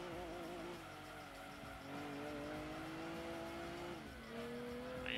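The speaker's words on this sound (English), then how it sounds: "It accelerates pretty slowly, but when it does, then the VTEC will kick in." Engine note of a VTEC-equipped car in the racing game Gran Turismo 2, a steady synthetic drone that climbs gradually in pitch and drops with a gear change, played alone without talk.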